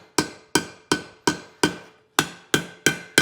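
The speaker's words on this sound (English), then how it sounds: "Making our hammer just hit right where we want it." Heavy ringing hammer blows strike metal on an anvil, eight hits in a steady rhythm with a short pause partway through.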